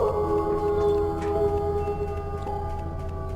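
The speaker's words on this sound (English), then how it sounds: "wolves are getting a little bit intense" Wolves howling in the video game Deer Man, long wavering tonal calls layered over a low steady ambient drone, sustained across the whole stretch with a few faint higher cries breaking through.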